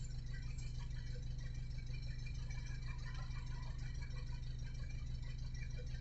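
A Peugeot 807 with a 2.0 HDi diesel engine idles after hydrogen decarbonising, giving a steady low rumble with a light rattle that holds evenly throughout, fairly quiet and without voices.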